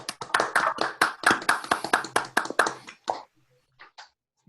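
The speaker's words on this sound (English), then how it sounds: "If you'd like to unmute and clap" Scattered clapping from participants unmuted on a video call after a math talk, a few people's claps patting out unevenly for about three seconds before trailing off into near silence.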